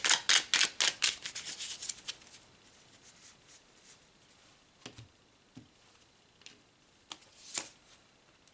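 Tarot cards being shuffled by hand, a quick run of crisp riffling flicks at the start, then quieter scattered taps and slides of the cards, close and soft with no talking.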